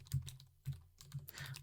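Typing on a computer keyboard, a short burst of several quick key clicks in uneven rhythm, close and fairly quiet, with no voices.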